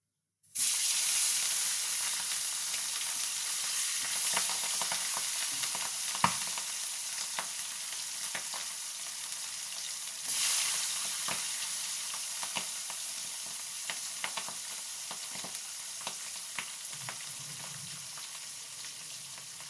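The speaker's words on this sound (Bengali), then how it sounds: "মাছগুলো ভাজা হোক, তারপরে আপনাদের দেখাচ্ছি।" Pieces of rui fish frying in hot oil, a steady close sizzle with crackling pops and occasional stirring that swells briefly midway, continuing alone for the whole stretch without any talk.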